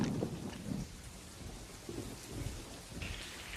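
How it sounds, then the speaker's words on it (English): Steady rain falls with a broad hiss, with low rumbles swelling and fading underneath like distant thunder. "Rain."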